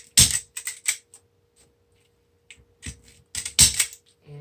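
Small snips cut the stems off flowers while making a daisy wreath, sharp close clicks coming in quick clusters with short pauses between them.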